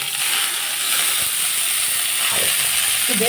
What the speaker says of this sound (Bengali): থানকুনি পাতাগুলো আমি তেলের মধ্যে একটু ভেজে নেব